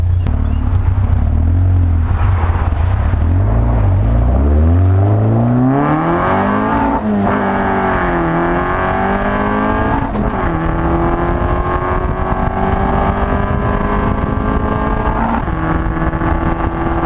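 A 130hp Westfield Seven sports car pulls away on a dual carriageway, its engine revving up through rising pitch sweeps with gear changes, the exhaust note loud and close throughout.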